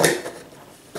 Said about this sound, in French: Je referme mon pot